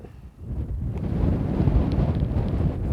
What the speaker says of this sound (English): The wind on its own is doing me in today